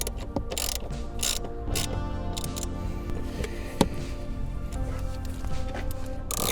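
Car seat bolts tightened with a ratchet: rapid clicking of the pawl in short bursts, close up, with a sharp metallic knock midway and light handling noise.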